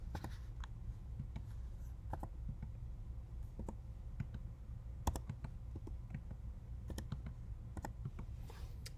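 Fingers tapping data into the plastic keys of a TI-84 graphing calculator, a steady run of quick, faint, close clicks over a low background hum.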